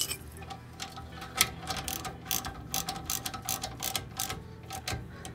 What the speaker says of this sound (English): I'm just going to get a regular socket wrench so I could have a little easier access.